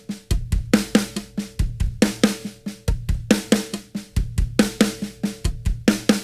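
On a drum kit, a paradiddle-diddle fill repeats with its last left-hand stroke swapped for two quick bass drum kicks, loud and close, cycling in a tight even rhythm.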